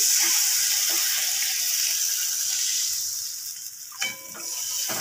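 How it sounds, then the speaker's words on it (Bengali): Close, loud sizzling of spices frying in oil that quiets and changes as water is poured in, followed by bubbling and softened hissing, while cooking a spinach fritter curry. "দেখো মশলাটা ভাজা হয়ে গেছে, আমি এবার জল দিয়ে দিচ্ছি"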